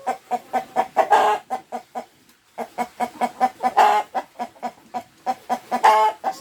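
Free-range village chickens kept above a pond cluck in a steady, rhythmic run of short calls, with louder bursts of squawking every few seconds, close and clear with no talk.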